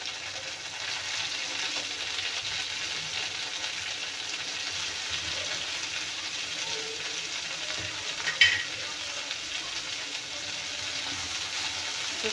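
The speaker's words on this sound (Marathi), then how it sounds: "आता आपण कोथिंबीर तेलामध्ये भाजून घेऊया" Chopped coriander leaves frying in a little oil in a kadhai for a pickle recipe, a steady close sizzle with faint stirring scrapes, no voices.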